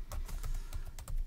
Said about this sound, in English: And I'm going to type in here,